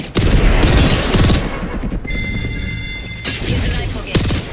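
Gunfire in a video game battle royale, loud bursts of shots and booms at the start and end, with a quieter stretch in between carrying a steady tonal hum.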